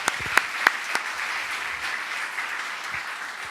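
An audience at a Buddhist monk's question-and-answer lecture applauds a young soldier, a burst of scattered claps that quickly thins into a softer, steady patter.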